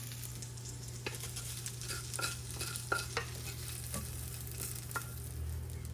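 Fiddleheads frying in a pan with grated Parmesan, giving a steady soft sizzle with a few light clicks of stirring, close and fairly quiet, no voices.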